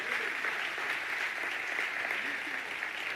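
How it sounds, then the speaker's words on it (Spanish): Church congregation applauding during a REMA congress service, a steady dense wash of many hands clapping at moderate volume throughout, with no break. "Dale fuerte ese aplauso al Señor."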